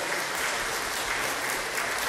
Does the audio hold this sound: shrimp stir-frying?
no